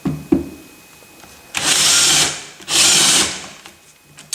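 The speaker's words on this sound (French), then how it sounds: "prendre une mèche, percer dans le coin pour pouvoir enfiler" A power drill with a bit boring a starter hole in the corner of a kitchen worktop cutout for a cooktop, two loud sustained whirring bursts of about a second each, separated by a short pause, after a few quiet clicks.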